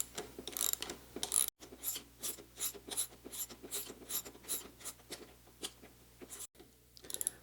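Ratcheting a bolt tight on a wheelchair, a quick run of close metallic clicks in steady bursts with brief pauses between strokes.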